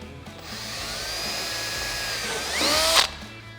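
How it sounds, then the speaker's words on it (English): A power drill whirs up and spins steadily drilling a fender flare mounting hole on a Can-Am Maverick X3, pitch rising as it bites in, then surges louder before cutting off abruptly; close and alone. "go ahead and line up the flare and drill our bottom hole"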